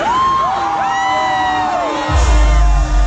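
A Halloween-event party crowd cheers and whoops with rising and falling yells, joined near the end by a heavy low bass thump from the sound system.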